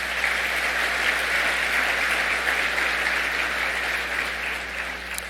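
Attendees at the USBC Convention annual meeting applaud the equipment brands supporting the PWBA Tour, a full, even round of clapping from a large hall crowd that stays steady throughout.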